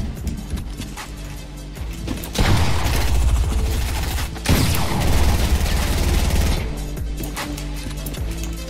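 Bursts of rapid automatic gunfire in the Fortnite battle royale game, loud and dense over several seconds, with shorter shots before and after.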